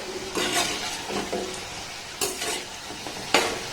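Sweets made from flour sizzle in hot oil while a utensil stirs them, with a steady frying hiss and several clinks and scrapes against the pan.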